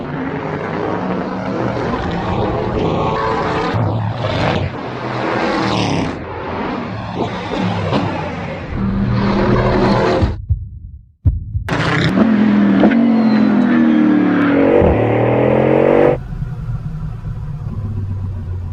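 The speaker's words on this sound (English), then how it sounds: "This car accelerates like nothing else I've ever experienced" Bugatti Bolide hypercar, 1825 hp, accelerating hard, its engine revving up through rising gear pulls with abrupt shift breaks, loud and close from inside the car.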